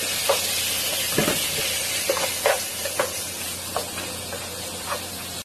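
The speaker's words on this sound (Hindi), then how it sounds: "प्याज लाल हो गई है चिकन डालिए चिकन डालिए" Chicken drops into a pan of browned onions, raising a steady loud sizzle and hiss with repeated scraping and stirring clicks from a spatula close by.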